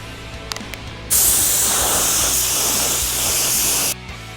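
Spray gun laying a final coat of paint on an Ironman deluxe bullbar for an N80 Hilux in a shed, a loud steady hiss lasting about three seconds with quiet moments before and after.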